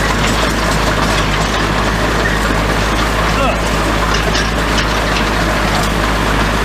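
A tractor engine runs steadily while haying, a loud continuous low drone that holds without a break from start to end.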